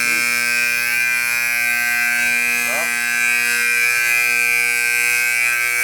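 A building alarm sounds continuously as a loud, harsh electronic buzzing tone that holds steady throughout, with a brief shift in pitch partway.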